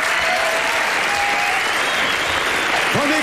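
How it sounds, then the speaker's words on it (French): Dense, loud audience applause fills the space continuously, a thick wash of many hands clapping with faint voices and tonal traces underneath near the end. "Applaudissements quand même."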